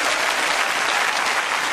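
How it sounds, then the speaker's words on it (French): A church congregation at a Pentecost service applauds and cheers for the Holy Spirit, a dense, loud burst of many hands clapping that fills the whole moment without letup. "On donne des acclamations au Saint-Esprit."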